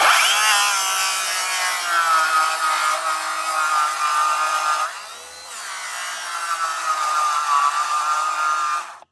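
Metabo cordless battery saw cutting through wood, a steady loud buzzing rasp that dips briefly midway before resuming at full strength until it stops.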